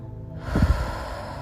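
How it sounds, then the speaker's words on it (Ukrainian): A single deep breath drawn in through the nose during a guided meditation, a close, airy nasal inhale swelling briefly and then fading, with no speech. "зроби глибокий вдих носом та видих ротом"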